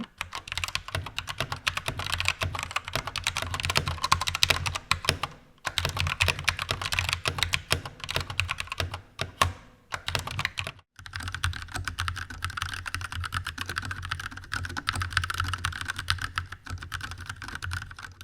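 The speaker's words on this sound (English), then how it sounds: "the sound that this keyboard makes is really horrible" Rapid, continuous typing on an AntEsports MK1300 Mini V2 mechanical keyboard with a hollow, clacky tone, close up, with only a couple of brief pauses.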